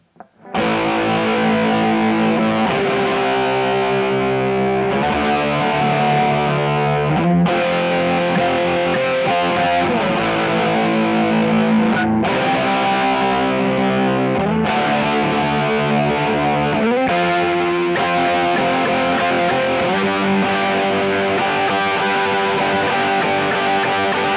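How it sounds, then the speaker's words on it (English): An electric guitar plays a song part through a chorus pedal, a loud, dense, swirling and slightly distorted tone that sustains chords continuously with no talking over it. "you can get that sound with a chorus pedal when you play with the depth and the speed"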